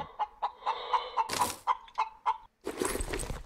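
The immortal chicken in the space game Breathedge clucks in a quick series of sharp, close calls, with a burst of noisy rustling in the middle and another at the end.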